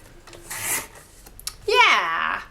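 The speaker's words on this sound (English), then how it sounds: "trim off a little bit more of this black cardstock" Paper rasping and scissors cutting through black cardstock at a craft table, a couple of short close scraping strokes with a brief voice in between.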